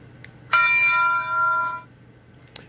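A model train sound unit rings a single bright, sustained bell tone that holds for over a second before cutting off, fairly close, with faint clicks before and after.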